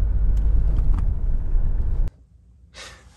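A 2008-2018 Toyota Avensis T27 diesel on the move gives a loud, steady engine and road rumble for about two seconds. It then cuts off abruptly, and a short hiss follows.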